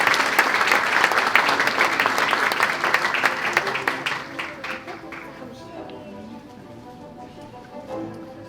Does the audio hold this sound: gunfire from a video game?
no